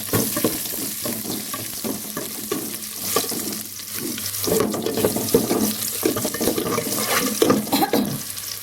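Water poured into a pot over garlic fried golden in a little oil, a steady splashing pour with hissing and sizzling throughout, close and fairly loud, no talking.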